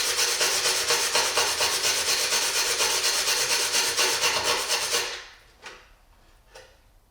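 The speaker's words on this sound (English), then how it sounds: "Now I need to hit it with some sandpaper." Steady rubbing of 400 grit sandpaper along the cut edge of a BMW S1000RR motorcycle shift lever, a continuous close scratchy stroke that stops abruptly after about five seconds, followed by a couple of faint knocks.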